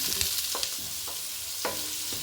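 Onions sauté in a pan, a continuous soft sizzle broken by several distinct scraping stir strokes of a spoon, close and fairly loud, with no talking.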